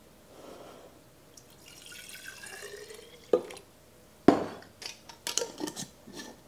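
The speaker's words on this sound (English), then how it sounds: "I'm just gonna take some of my juice and mix it in to help loosen up some of the crystallized bits." Juice being stirred into crystallized honey in a glass jar while making mead, giving faint scraping and liquid stirring, then a sharp clink around the middle and a run of small taps and knocks toward the end.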